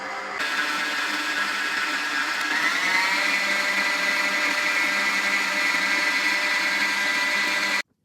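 An electric mixer whips an egg and sugar mixture for white chocolate cheesecake, a loud continuous whirring drone that rises slightly in pitch partway through and cuts off at the end.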